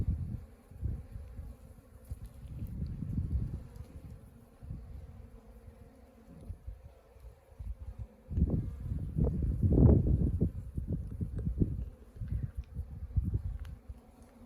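Honeybees buzzing around a large rosemary bush in a southern Arizona pollinator garden, a close, fluctuating drone of wings that swells and fades as bees pass near, louder toward the end, outdoors.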